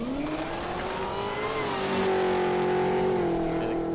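Supercharged LS-engined Mitsubishi Sigma drag car pulling hard down the strip at Palmyra Raceway, a loud rising engine wail climbing through the gears, heard from the sidelines with crowd noise beneath.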